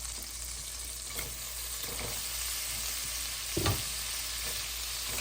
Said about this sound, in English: along with this I will add the paneer and toast it a little bit